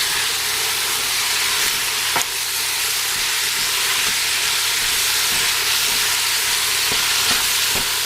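Meat browning in a pot of olive oil for homemade pasta sauce, a loud steady sizzle with a few faint stirring clicks and no talking.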